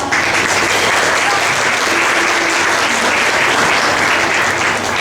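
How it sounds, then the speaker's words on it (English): Steady audience applause fills a graduation ceremony hall at a women's degree college, a dense, continuous wash of clapping from a large crowd lasting throughout without pause. "You can clap."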